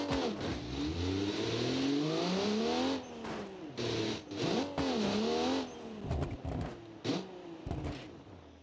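Off-road vehicle engine in BeamNG, revving and accelerating loudly and close, with the pitch rising and falling in sweeps and a few sharp drops and bursts near the end.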